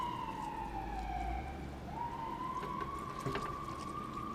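A wailing siren rises and falls steadily in a city on a spring morning, sounding some distance away over a low background rumble, with no voices.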